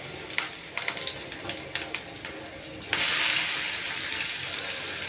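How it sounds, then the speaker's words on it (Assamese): Chopped onions drop into hot oil with dry red chilli and five-spice for an Assamese fish curry; light clinks come first, then a sudden louder hiss of sizzling that holds steady to the end. "এতিয়া কাটি থোৱা পিঁয়াজখিনি তেলত দি দিলোঁ আৰু অলপ সময় ভাজি থাকিম"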